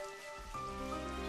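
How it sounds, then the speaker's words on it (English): Rain falls in Xenoblade Chronicles 3 as a soft, continuous patter under a sustained tonal music bed, fairly quiet and with no talking. "It's actually raining."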